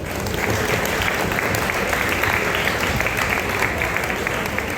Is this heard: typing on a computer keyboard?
no